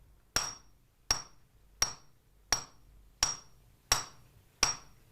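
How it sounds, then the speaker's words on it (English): A Japanese swordsmith hammers a plain iron rod down to a sharp point, striking seven sharp, ringing metallic blows at a steady, unhurried pace of about one every 0.7 seconds, close and clear with no talking. "he hammers a plain iron rod down to a sharp point"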